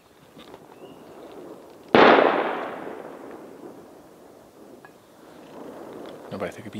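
A single distant gunshot booms during a wild boar hunt in Spanish woodland, a sharp crack followed by a long rolling echo that fades, with faint voices and outdoor ambience around it.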